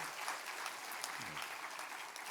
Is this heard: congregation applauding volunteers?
yes